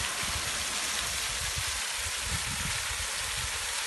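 Water spraying out of a pipe in a strong continuous gush, a loud close hiss of splashing water that stays steady throughout.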